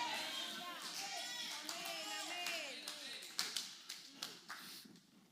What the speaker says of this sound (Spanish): Qué feo se escuchó ese aplauso.